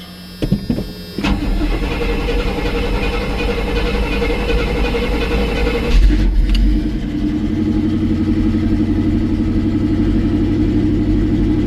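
A 1984 Chevrolet K20 truck engine cranks briefly, catches and settles into a loud, steady idle, with a short surge in revs partway through, close by and with no talk.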